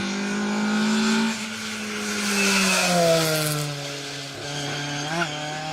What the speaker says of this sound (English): So another Ford Escort Mark 1.